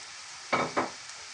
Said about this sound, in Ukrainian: І все добре перемішую і обсмажую.